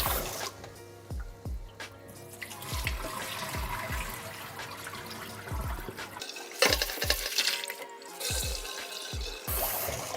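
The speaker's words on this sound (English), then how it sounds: "we're gonna rinse it 2 times" Cold tap water runs at a kitchen sink as basmati rice is rinsed in a large bowl, with splashing, trickling and repeated low knocks and swishes from handling the bowl, fairly close, no talk.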